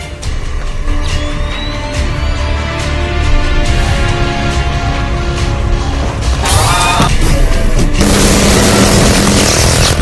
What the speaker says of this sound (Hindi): शिकारी नंबर 1 ने 2200 गोले फायर किए हैं